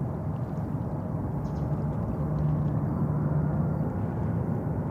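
An Alaska Airlines airliner on runway 31 at JFK Airport produces a steady, distant jet rumble that swells slightly midway and holds as a broad, continuous roar.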